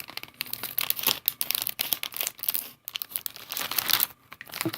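Crinkly plastic packaging of Pea Kai's rice crackers rustles and tears in quick, irregular bursts, close and fairly quiet, with short pauses between handling noises.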